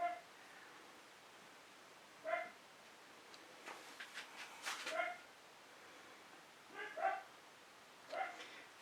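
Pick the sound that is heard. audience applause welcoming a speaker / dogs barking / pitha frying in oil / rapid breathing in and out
dogs barking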